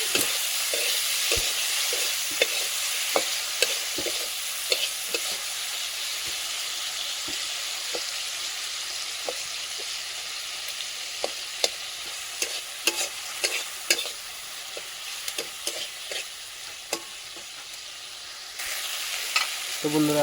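Tomatoes with salt fry in a kadai, giving a steady sizzle throughout, with frequent sharp scrapes and clicks of a spoon stirring against the pan.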